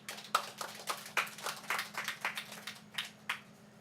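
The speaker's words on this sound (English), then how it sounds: "So let's give him a round of applause." Scattered hand claps from a small gathering at a solar power system handover ceremony, a sparse, uneven patter of individual claps over a steady low hum, fairly faint and thinning out.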